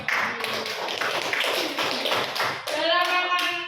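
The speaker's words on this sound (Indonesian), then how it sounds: "Tepuk tangan juga buat kita semua" A few people clap in a classroom lesson, with uneven close clapping under a voice and talk, then a brief louder clap near the end.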